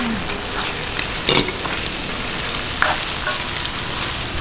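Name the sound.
shrimp frying in a pan for pansit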